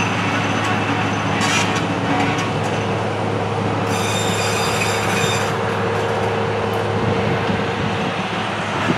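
A freight train locomotive climbs a hill with a loud, continuous rumbling drone, and wheel squeal rises over it partway through. The rolling railcars sound close and steady, with no speech.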